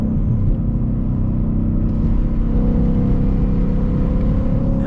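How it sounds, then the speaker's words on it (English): Wind noise and road rumble inside a Mustang cruising along, a constant dense low roar that stays even for the whole stretch with no talk. "Ah, that wind noise."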